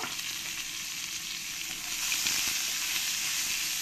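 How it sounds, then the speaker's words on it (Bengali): Sliced onions fry in hot oil for a mutton and potato curry, a loud continuous crackling sizzle that swells a little denser partway through, close and uninterrupted. "পেঁয়াজটা দিয়ে ভালো করে পেঁয়াজটাকে আমি লাল লাল করে ভেজে নেব"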